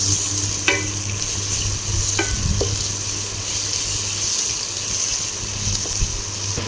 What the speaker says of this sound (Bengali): তো ধনে আর জিরের গুঁড়ো, আদা রসুনের পেস্ট, কষিয়ে নেবো মশলাটা